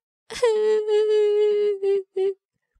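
A child wails in a long, sustained cry, then gives two shorter sobbing bursts before falling quiet; close and loud.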